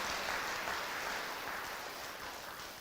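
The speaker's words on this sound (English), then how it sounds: "Please give all of your teachers a round of applause" Steady applause from a school audience at an elementary school dedication and ribbon-cutting ceremony, dense and continuous throughout without a break, gently easing toward the end.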